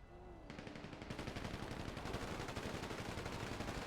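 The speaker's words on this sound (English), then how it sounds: "What are you shooting me for?" Automatic gunfire in GTA V roleplay during a police shootout: rapid, dense bursts of shots rattling on continuously, fairly close and loud, with no talk over them.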